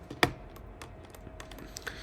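A computer keyboard is pressed during 3D modelling work, with a few quiet, close key taps including one sharper clack early on, spaced unevenly.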